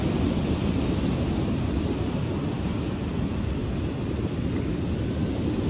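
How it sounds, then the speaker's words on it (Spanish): Sea waves wash up and draw back along a beach shoreline, a constant low rushing surge close to the microphone, with wind buffeting mixed in. "El agua sale, viene y se devuelve más bueno, ya pasa por encima"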